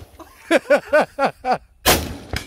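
A rapid run of voiced laughing syllables is followed by two sharp, loud shots from a 300 Blackout rifle at a gun range, the first booming and close, the second briefer.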